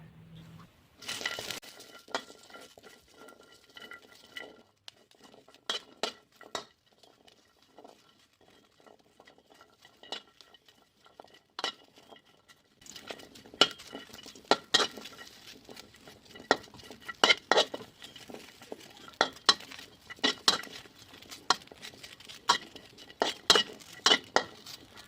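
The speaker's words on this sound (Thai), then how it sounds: "แล้วก็เอาพริกกระเทียมหอมแดงมาคั่วนะเจ้า คั่วกับกระทะเอาเนาะ" Dried chilies, garlic and shallots dry-roasting in a wok over a burner, with sparse then busier metallic scrapes, taps and rattles of a utensil stirring against the pan, fairly quiet and close, no talk.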